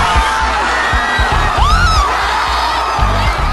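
La Salle fans celebrate an Archers championship out on Taft Avenue, a loud crowd roaring, whooping and screaming without pause, with rhythmic chanting and thumping beats underneath and a whistle-like rising tone sounding partway through.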